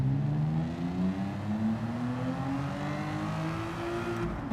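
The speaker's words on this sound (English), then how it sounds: "Was that the Ferrari Daytona just whipping through there?" A Ferrari Daytona in Gran Turismo 7 whips past with a rising, then falling engine note, the revving tone sweeping upward steadily at moderate volume over continuous game sound.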